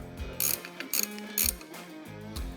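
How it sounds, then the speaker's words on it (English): A ratchet snugs up a nut on a light bar mounting arm bolted at the tow hook of a Ram truck, giving several short bursts of rapid metallic clicking separated by brief pauses, close and clear with no talk. "put the nut on and snug it up"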